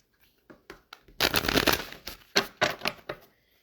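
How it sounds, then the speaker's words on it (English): Tarot cards are shuffled close by: a few soft flicks, then a dense riffling burst, followed by several sharper taps and riffles. "Shuffle it one last time."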